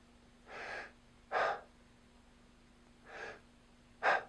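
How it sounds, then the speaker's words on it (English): Stressed, air-hungry breathing demonstrated by an adult voice: four audible breath sounds, short exhalations alternating with sharp, desperate gasping inhalations, close and quiet against a faint steady hum. "It's a shortened exhalation with a kind of a desperate inhalation. It's called air hunger."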